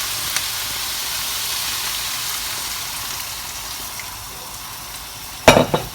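Carrots and onion softening in a pan with stock, a steady low sizzle and bubbling hiss throughout, with a brief clatter of stirring near the end.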